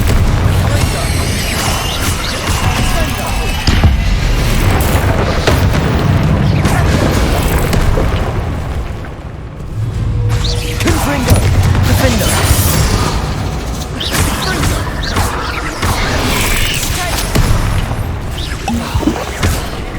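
Spell blasts from Hogwarts Legacy, including Bombarda, Confringo and Incendio, as booming explosions and crashes in rapid succession with a brief lull midway, while a voice shouts the spell names over them.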